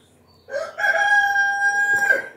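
A rooster crows loudly once, a long drawn-out call with strong harmonic tones held for well over a second, close by with no talking.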